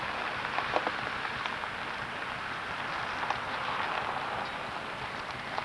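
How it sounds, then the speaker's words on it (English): Steady, soft rain pattering on a surface, a continuous hiss with scattered drips, faint and unbroken. "It's raining today."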